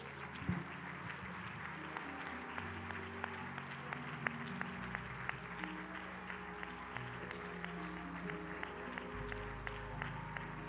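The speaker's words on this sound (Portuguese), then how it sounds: "Aplauda o Senhor em nome de Jesus" A church congregation claps, distinct individual hand claps over a low sustained organ-like drone and background music, moderately quiet and fairly rhythmic across the whole stretch.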